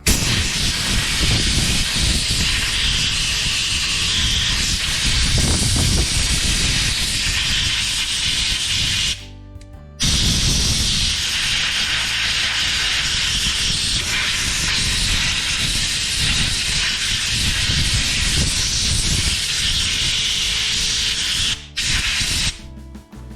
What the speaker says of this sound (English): I'm going to go in with this and use compressed air and clean out everything around here.